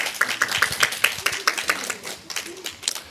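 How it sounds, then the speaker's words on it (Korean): A church congregation claps in uneven bursts, sharp hand claps rising above a scattered applause that thins toward the end. "여러분 박수로 축하해 주시기 바랍니다."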